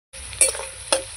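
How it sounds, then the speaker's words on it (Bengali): Browned potatoes and onions in a hot pan, a continuous sizzle broken by two quick stirring scrapes against the pan. "আলু পেঁয়াজ ভেজে নিয়েছি এই যে লাল লাল করে।"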